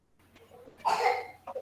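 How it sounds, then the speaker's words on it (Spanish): A single cough from a child, a short harsh burst followed by a couple of smaller catches of breath, fairly close against a low steady hum. "mi hijo empezó a toser y le tuve que dar agua"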